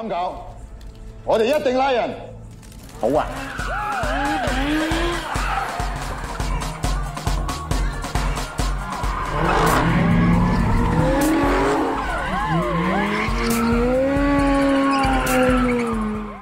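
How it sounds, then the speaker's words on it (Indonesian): A Ferrari 599 GTB Fiorano drifts with loud, sustained tire squeal and skidding over a roaring engine, the screeching rising and falling in long continuous sweeps. "baru selesai melakukan drifting menggunakan Ferrari 599 GTB Fiorano"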